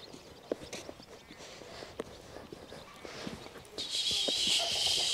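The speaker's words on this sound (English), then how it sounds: "Let's try to ride on this horse." A horse walking in a Kazakh village while being ridden, hooves clopping in an uneven light rhythm at middle distance over steady outdoor background, with a louder hiss rising near the end.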